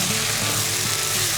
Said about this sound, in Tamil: அரிசி இதில் போட்டு இந்த மட்டனோட சேர்த்து நம்ம கலக்கி எடுக்கிறோம்.